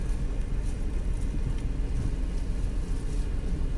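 Car creeping through traffic in Las Piñas, Manila, heard from inside: a steady low engine and road rumble, moderately quiet and continuous, with faint scattered noises and no talk.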